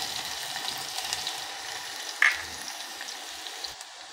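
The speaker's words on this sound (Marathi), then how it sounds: "तर इथे तेल तापलेलं आहे. मोहरी घालू आपण, जिरं घालू, इथे लसूण घालू" Mustard seeds, cumin and crushed garlic sizzle in hot oil, a steady close crackling hiss with one sharp spatter pop midway and no voices.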